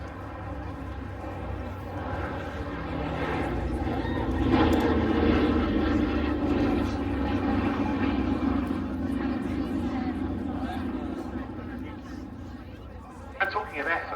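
A Boeing B-17 Flying Fortress bomber drones overhead at the Cosford Air Show, a steady low engine rumble swelling and then easing while an announcer speaks over it.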